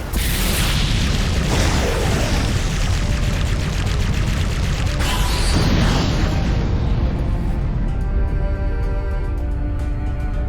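A fire-style fireball jutsu explosion in a Naruto video game, a sustained loud roaring blast with rumbling booms that fades into a dwindling tail.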